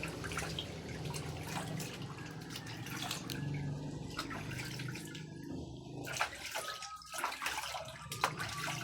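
Steady running water pours and splashes while dogs are being bathed, a continuous hiss with intermittent drips and sloshes, close and fairly loud throughout, with no talking.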